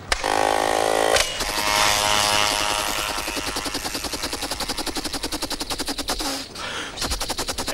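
A steady, rapid mechanical chopping pulse like helicopter rotor blades runs for several seconds after a brief tonal hum, loud and close.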